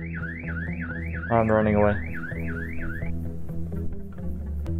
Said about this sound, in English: I don't know what to do with the alarm.